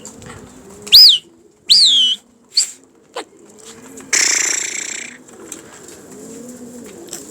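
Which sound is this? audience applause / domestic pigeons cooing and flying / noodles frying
domestic pigeons cooing and flying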